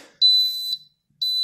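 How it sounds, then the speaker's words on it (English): Bestway Lay-Z-Spa hot tub pump beeping a ground connection fault error: two loud, shrill electronic beeps, the first about half a second long, then a pause and a second beep starting, clean and close with nothing else heard. "This is the ground connection failure error that you get, and I'll put a clip of it beeping, and it's very annoying."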